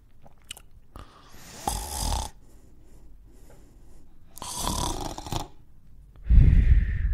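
A voice imitates snoring: three loud, rasping snore-like breaths separated by quiet pauses, close up.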